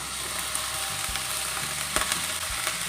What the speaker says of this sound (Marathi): तेल आपलं तापलेलं आहे यामध्ये आपल्याला घालायचं आहे बारीक चिरलेला कांदा बारीक चिरलेली सिमला मिरची बारीक चिरलेलं गाजर मक्याचे दाणे मटार